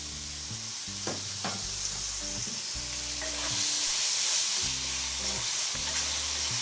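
Shrimp frying in a pan for a spinach curry, a close, continuous hiss and crackle of sizzling oil with occasional stirring sounds over a low background hum, no talking.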